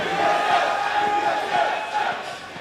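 A large esports crowd at the 2014 NA LCS Summer Playoff Finals, C9 vs TSM, chants team names in unison, a sustained roar of voices with rhythmic swells, loud and fairly close.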